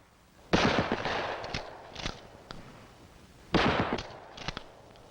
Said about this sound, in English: Hip firing is used at close range, where most confrontations do occur.